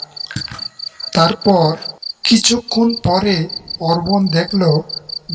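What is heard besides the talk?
crickets chirping at night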